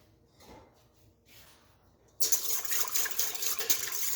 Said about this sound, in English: It's hot water so that we can get started blooming the yeast